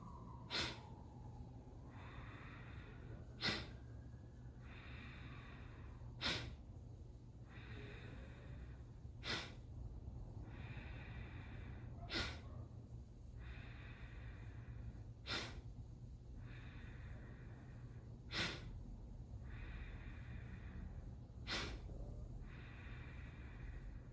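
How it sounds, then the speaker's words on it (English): Kapalabhati breath of fire during a yoga practice: about nine forceful, sharp nasal exhalations at a steady rhythm roughly every three seconds, close and clear over a low constant hum, with soft breathing between them and no speech. "A strong exhalation."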